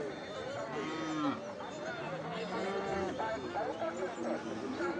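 Cattle at a village market are loaded onto a vehicle amid low lowing and shuffling, with several people talking and calling over the animals throughout at moderate distance.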